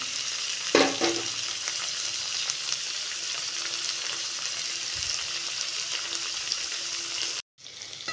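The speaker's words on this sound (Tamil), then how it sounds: "இப்போ வெங்காயம் வதங்குறதுக்கு கொஞ்சம் உப்பு போட்டுக்கலாம்" Onions sautéing with powdered salt in a pan for a fish curry: a steady, loud sizzle and crackle running throughout, with a stirring clatter near the start and a brief dropout toward the end.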